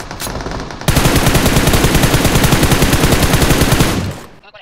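Rapid automatic gunfire in the mobile battle royale game PUBG Mobile, a loud sustained burst of closely spaced shots lasting about three seconds before tailing off, following a quieter stretch of game sound.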